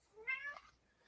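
A cat gives a single short meow, fairly close but soft, with a faint rising then falling tone lasting about half a second against a quiet background.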